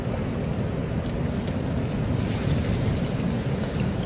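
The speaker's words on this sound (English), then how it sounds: "Got a good chop on that water and a good blow." Strong gusty wind buffeting the microphone beside choppy water on a spring fishing lake, a continuous loud rushing roar with waves slapping beneath, steady throughout.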